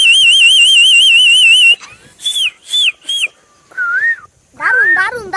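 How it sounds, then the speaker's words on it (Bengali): A man whistles a melodic, warbling tune, one long sustained phrase followed by several short bursts and then a final wavering run with voice mixed in, close and loud. "whistle then, whistle"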